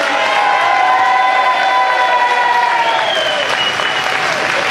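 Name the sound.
audience applause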